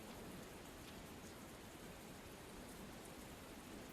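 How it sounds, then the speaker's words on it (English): Steady rain falling in Stonebury in the game Tales of Berseria, a dense, even hiss that stays constant and fairly quiet throughout with no voices. "It's raining. Shouldn't you find shelter?"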